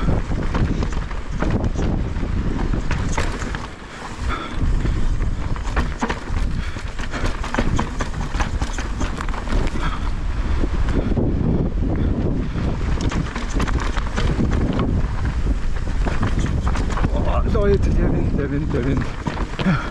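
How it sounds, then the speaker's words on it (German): Strong wind roaring and buffeting the microphone during a mountain bike ride in Madeira, a loud continuous rush that barely lets up for the whole stretch. "aber der Wind ist so stark"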